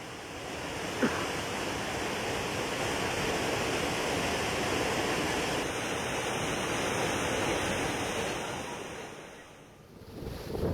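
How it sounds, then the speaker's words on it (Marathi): High sea waves surge along the Konkan coast in a steady, dense roar of surf that holds for the whole stretch. The noise eases and dips briefly near the end, with no talk. "समुद्रात ला उंचच उंच लाटा सध्या उसळताना आपल्याला दिसत आहे"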